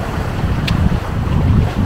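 Strong wind of 14 to 32 knots roars across the microphone with the rush of water against a sailing boat's hull under full sail in the Strait of Gibraltar, loud and continuous, no voices.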